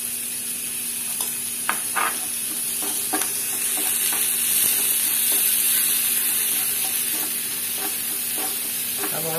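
Onions sauté with salt in a pan, giving a loud, close sizzle with intermittent scraping and stirring clicks as they are moved around, and no voices.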